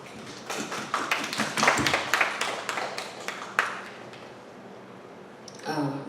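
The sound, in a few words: audience applause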